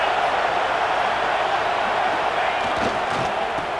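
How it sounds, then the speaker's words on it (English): A stadium crowd in a college football video game, Cincinnati against Oregon, roars in a dense, steady wall of cheering that holds loud throughout with no pauses. "This crowd knows when to bring it."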